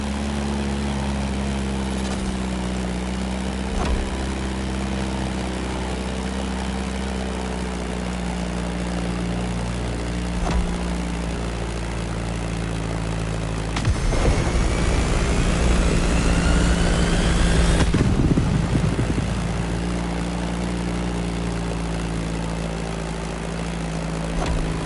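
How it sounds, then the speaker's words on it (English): A Beechcraft Staggerwing propeller plane drones steadily through a driving video game, The Crew Motorfest, its engine hum holding a constant pitch with a brief louder surge partway through. "Beechcraft Stagger Wing is truly a beautiful piece, isn't it?"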